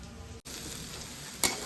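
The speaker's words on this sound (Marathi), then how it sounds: "कांदा परतणीसाठी टाकून देऊ" Onion sautés in a pan with a faint, steady sizzling hiss that drops out for an instant near the start, then flares into a brief louder crackle, with nobody speaking.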